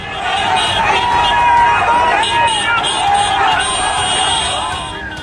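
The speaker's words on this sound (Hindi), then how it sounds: "जबरदस्त भीड़ है।" Large crowd surrounds a political road show with cars in the street, a dense, loud babble of many voices and cheering throughout, close by.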